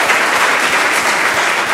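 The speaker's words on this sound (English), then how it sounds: "Please give Commissioner Vann and round of applause" An audience applauds loudly and continuously for a commissioner at a public gathering, a thick, sustained wash of clapping with no gaps.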